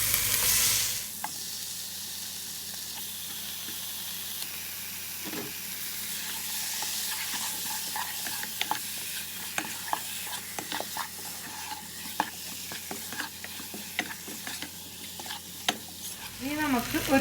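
Chicken stirred into a spiced, salted mixture in a pan for Thalappakatti biryani, giving a soft continuous sizzle with frequent scraping clicks of the spoon throughout.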